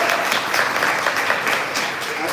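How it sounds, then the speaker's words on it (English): A live audience at a Detroit startup pitch event gives a brief round of applause, dense overlapping clapping at a steady, fairly loud level for a couple of seconds. "Can you guys give them a round of applause?"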